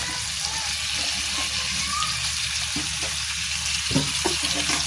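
Broth poured into a pot of cooking pompano fish for tinola, a steady wash of liquid and bubbling simmer running throughout with a few soft clinks near the end.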